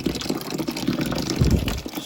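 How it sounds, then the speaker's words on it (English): Water flowing and gurgling as it is drawn out of a water heater tank, a continuous moderate rush with small bubbling surges, close by and without talk. "problem is we're sucking water out of the tank."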